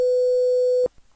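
A steady, loud, pure-sounding 500 Hz sine tone quantized to 4 bits, with faint added buzz from the quantization, held for nearly a second before cutting off abruptly into silence.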